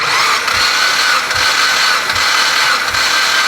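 A Mitsubishi Evo engine with a burnt valve and no compression in cylinder 2 idles roughly and loudly up close, its uneven beat lurching with a distinct missing-cylinder stumble repeating about every 0.8 seconds.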